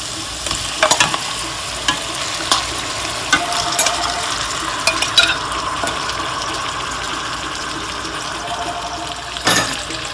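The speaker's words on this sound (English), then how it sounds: "I'm just gonna saute this for about a minute or two" Shrimp sautéing in a pot over high heat for coconut curry, a steady bright sizzle and crackle with occasional clinks of stirring, close and loud without talk.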